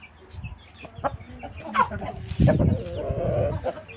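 An Aseel rooster, a square-legged adult cock, gives a few clucks and low throaty calls up close among farmyard clatter and handling noise.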